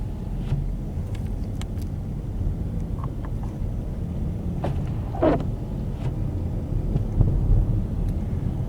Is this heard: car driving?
yes